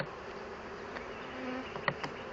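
Honey bees buzz steadily and close during a spring hive inspection, a continuous drone with one bee passing near the listener.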